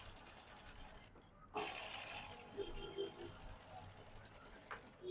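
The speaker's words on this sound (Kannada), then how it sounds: "ಎಡ್ಜಲ್ ಸ್ಟಿಚ್ ಹಾಕೊಂತ ಇದ್ದೀನಿ" A sewing machine runs in bursts while edge stitching a blouse. Its mechanical whir sits under steady speech, with brief pauses between runs.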